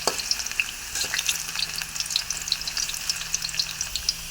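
Carrots frying briefly in hot oil in a pan with stirring, a continuous close sizzle with sharp crackles and pops and occasional scraping, alone without talk.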